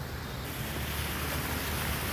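Floodwater rushing across city streets in Rajasthan after rain, a steady broadband wash like surf with some wind rumble, continuous and fairly loud with no voices.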